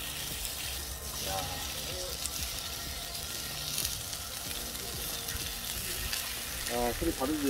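Pork belly sizzles steadily on a seasoned cast iron pot lid, a dense crackling fry with faint watery hiss throughout, close and continuous, with brief voices in the background.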